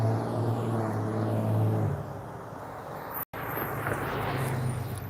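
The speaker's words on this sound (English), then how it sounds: "this area, they got a whole bunch of loud cars, all them trucks and stuff be loud" Loud cars and trucks pass on a street in Selma, Alabama, with a close, heavy engine rumble fading and then another vehicle whirring by, and a brief dropout midway.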